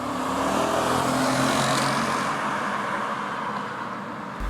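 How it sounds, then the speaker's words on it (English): A 2005 Audi S4 4.2 V8 running its stock exhaust roars past outdoors, a loud, steady engine rush that holds for several seconds and then eases slightly as it moves away. "Exhaust flyby."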